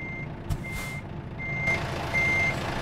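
In American Truck Simulator, a truck's reversing alarm beeps in slow, evenly spaced tones over a low engine rumble, with a brief hiss of air partway through.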